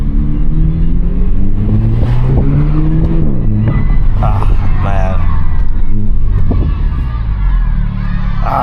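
A 2024 Renault Megane RS 300 Trophy with a 300 hp engine revs and accelerates from inside the cabin, rising in pitch through the gears, loud and close, while someone talks over it.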